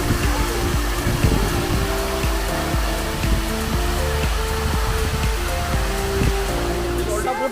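Khandadhar waterfall pouring down, a steady broadband roar of falling water with low rumbling textures throughout, constant and fairly loud, no clear voices standing out.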